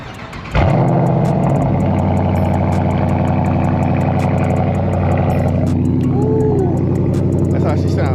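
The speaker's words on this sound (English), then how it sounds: "I want to give y'all that cold start." A Dodge Charger with a 345 Hemi fires up from a cold start about half a second in, then settles into a loud, steady, rumbling idle close by.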